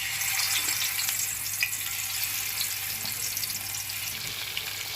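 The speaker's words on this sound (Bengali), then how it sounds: "মাছগুলো ভাজা হচ্ছে" Fish pieces rubbed with salt and turmeric frying in oil in a wok, giving a continuous bright hiss and crackle at an even level, close by and without talking.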